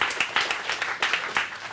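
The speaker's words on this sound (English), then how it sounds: "Okay, give them a round of applause." An audience applauds speakers at a JavaScript meetup with brief, fairly quiet, moderately close clapping.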